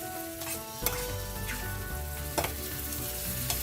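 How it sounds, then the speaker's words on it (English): Shrimp pepper roast with chopped cilantro sizzles and fries steadily in a pan cooked uncovered over an open flame, a close, continuous crackle with a few sharper stirring scrapes and no talking. "And we're going to cook this on an open flame, uncovered."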